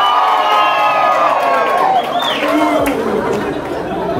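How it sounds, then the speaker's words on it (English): Wedding reception crowd cheering, whooping and shouting on cue, a dense continuous roar of many voices with rising yells, loud and close throughout. "All those who are here on behalf of TC, make some noise"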